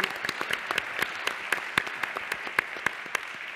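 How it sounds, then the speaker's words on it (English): Audience clapping at a panel session of a food innovation event in Chile, steady dense applause with sharp individual claps standing out throughout, moderately loud and sustained, with no voices over it. "So a big round of applause."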